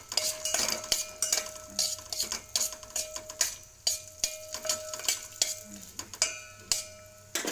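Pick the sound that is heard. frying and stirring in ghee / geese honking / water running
frying and stirring in ghee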